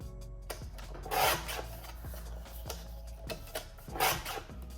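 Card paper from a patterned paper pad is cut in a craft session, giving soft rasping, scraping strokes with faint taps, quiet and close.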